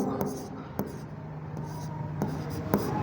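Marker or chalk strokes on a board during a commerce accounting lesson, a series of soft scratches and taps at irregular intervals under faint room noise.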